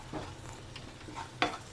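Chili powder and beef masala roast in a pan for Kerala beef ular, with a faint soft sizzle and a few quiet scraping stirs, including one sharper scrape near the end.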